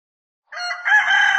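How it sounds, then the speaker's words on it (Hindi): A single rooster crows once, loud and clear, after a brief silence. "सुबह सुबह मुर्गा जब बांग दे देता है"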